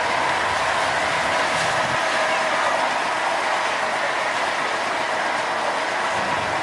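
A sugar cane railway locomotive at the PG Kedawung mill pushes along an overgrown track through tall grass and banana plants, a loud, constant roar of rolling wheels, rattling wagons and brushing vegetation, with clicking mechanical noise throughout.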